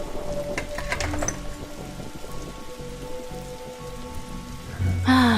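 Rain pours outside in The Darkside Detective 2 video game, a continuous patter beneath soft musical tones, with a sharper sound effect rising near the end.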